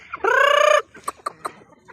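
Native chickens on a backyard breeding setup: one drawn-out loud squawk from a bird up close, then several short, sharp clucks and calls spaced out in quick succession.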